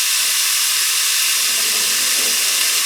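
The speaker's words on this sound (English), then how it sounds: "I'm going to add in our 6 cups of sliced cabbage." Six cups of sliced cabbage go into a hot pot for spicy cabbage soup, producing a loud, continuous steamy hiss and sizzle that stays steady from start to finish, with no one speaking.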